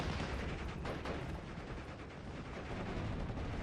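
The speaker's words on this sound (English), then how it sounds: "We're taking heavy fire." Heavy gunfire in the WWII strategy game Steel Division: Normandy 44, heard as a faint, continuous crackle of shots and distant rumbling battle noise with no talking.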